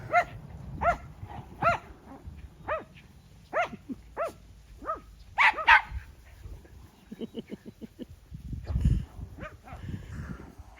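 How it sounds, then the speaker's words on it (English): Dogs bark in a backyard garden as someone teases them, a string of sharp, fairly close barks with short pauses, followed by lower grumbling and rustling near the end. "over there teasing the dogs"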